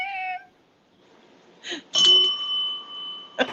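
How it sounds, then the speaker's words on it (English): A bell rings with a bright, sustained ding after a short meow-like tone, followed by a second quick strike near the end, heard clearly and close. "Oh, and then he gets a bell."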